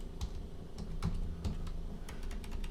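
Computer keyboard typing while coding a Qt project with the pigpio library: irregular clusters of close, crisp key clicks with short pauses, no talking.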